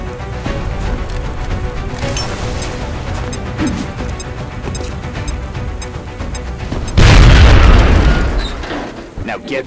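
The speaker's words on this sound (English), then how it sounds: "Now toss your grenade at the enemy in front of you." Grenade explosion in the turn-based strategy game XCOM: Enemy Unknown, one loud booming blast that rises sharply and trails off over a couple of seconds, following quieter game music and ambience.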